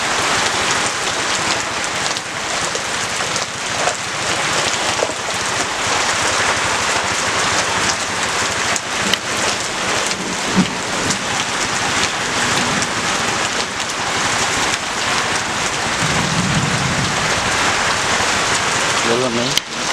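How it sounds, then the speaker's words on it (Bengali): A heavy monsoon downpour drumming hard and steadily on surfaces in a village lane, loud and unbroken for twenty seconds, with a brief low rumble toward the end. "এই যে মুষলধারে বৃষ্টি হয়েছে"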